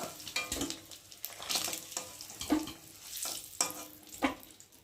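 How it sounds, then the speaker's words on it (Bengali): Fried eggs, coloured with chili powder and turmeric, are lifted out of hot oil in a pan; crisp sizzling runs under repeated sharp scrapes and clinks of a utensil against the pan, close and alone. "আর এখন আমি ডিমটাকে তুলে নেব।"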